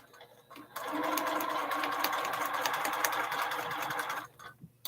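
A home sewing machine stitches a quilt block in one steady, close run of fast whirring needle strokes, starting abruptly after a brief quiet moment and stopping cleanly near the end, with no talk over it.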